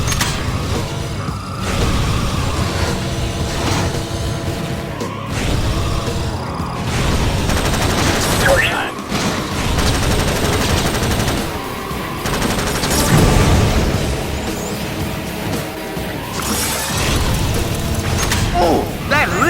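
Combat racing in Jak X Racing Combat, with bursts of rapid gunfire, booms and mechanical clatter layered over engine noise, while a voice calls out through the action.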